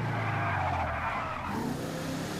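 A Lurcher car in GTA 5 Online drives hard and skids, its engine droning loudly and steadily while tires scrub and squeal across the road, with no voices.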